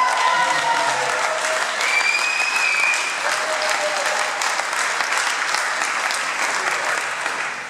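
Audience at a presenter introduction applauding steadily and loudly throughout, a dense continuous clapping crowd with a few faint whistles mixed in.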